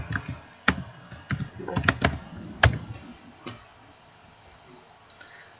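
Code being typed on a computer keyboard: a quick irregular burst of sharp key clicks, close and fairly loud, thinning out to a few isolated taps.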